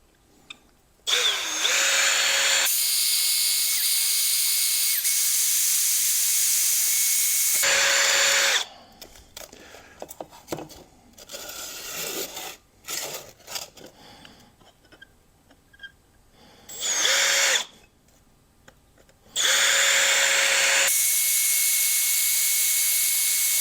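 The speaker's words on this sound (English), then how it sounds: "Okay, so I got the holes marked here. So let's get these drilled." Power drill boring holes in a DIY battery box, several loud sustained whining bursts with brief clicks and handling sounds in the pauses between holes.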